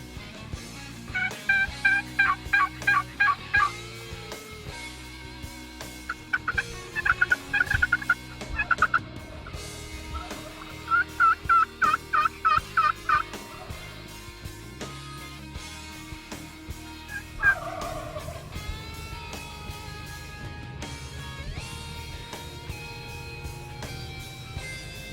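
Wild turkey gobbling during a spring turkey hunt outdoors: several loud rattling gobble bursts in quick succession, repeated in clusters over about twelve seconds, followed by quieter calls against background ambience.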